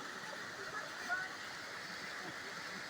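Waterfall at the Tsarska Bistritsa palace grounds, a steady broadband rush of falling water that holds constant throughout, with a faint voice briefly audible beneath it.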